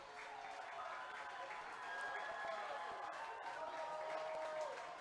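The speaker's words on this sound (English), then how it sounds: "Crowd on their feet making noise" Baseball crowd at an Atlantic League playoff game between the High Point Rockers and Gastonia, on its feet making noise, a steady distant roar of cheering and clapping at low level.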